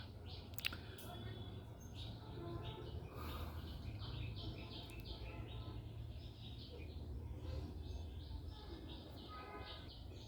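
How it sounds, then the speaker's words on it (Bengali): Small birds chirp repeatedly in the distance, quick high tweets over a soft outdoor background hum. "পাখিদের কিচিরমিচির শুনতে পাচ্ছেন"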